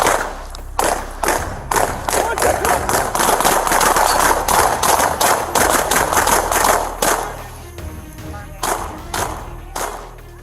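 Rapid bursts of gunfire during a police confrontation, a quick run of loud, sharp cracks over the first seven seconds, then sparser shots trailing off.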